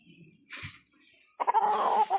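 Boston roundhead chicken clucking close by in a backyard, a short cluck followed by a longer run of throaty clucks.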